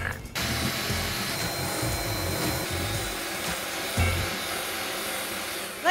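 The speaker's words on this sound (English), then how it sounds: "Gonna drill a board." A power drill bores into a dark pine board, giving a steady, loud mechanical whir that holds for several seconds with no talking.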